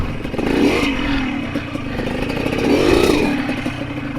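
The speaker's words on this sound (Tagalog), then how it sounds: "Ito may motor oh." A motorcycle engine rumbles close by on the Butuan-Pianing-Tandag road, Sibagat section, swelling twice as it revs past, with a steady mid-pitched drone throughout.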